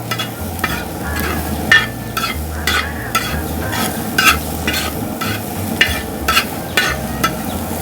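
Onions sautéing in coconut oil for a mandi dish. A continuous sizzle carries along with regular scraping strokes of a spatula against the pan, roughly two a second, fairly close and without talk.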